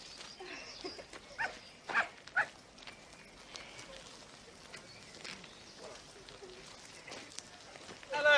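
A young dog barks several times, sharp and fairly distant, scattered across an outdoor scene with faint background voices and ambient noise.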